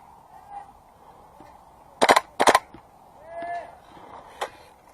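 Airsoft guns fire BBs in an outdoor skirmish, heard as two quick bursts of three or four sharp snaps each, then one more snap, over faint background noise.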